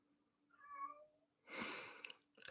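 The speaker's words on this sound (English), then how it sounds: "I've got a very hungry cat that I'm going to just bribe." A hungry cat gives one clear, drawn-out meow close by, followed by a brief burst of rustling noise in a quiet indoor room.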